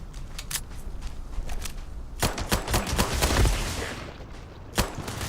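Gunfire from a weapon in the video game Starfield: bursts of sharp, rapid shots, sparse at first and then a dense volley, with one more loud crack near the end and no voices.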